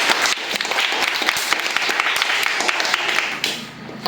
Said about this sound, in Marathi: विराटसाठी सगळ्यांनी टाळ्या वाजवायच्या